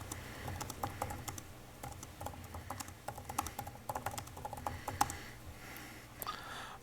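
A computer keyboard is typed on slowly and unevenly during a town planning board meeting, giving soft, close key taps in irregular bursts at low level, with no speech.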